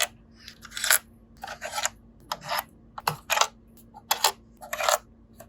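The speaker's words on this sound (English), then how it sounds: "we'll get out our Torx T10 and remove all of the green screws." Torx T10 screwdriver backing out screws from an Xbox Series S console: a series of close, short scraping and clicking bursts, about eight in quick irregular succession, with a faint steady hum underneath.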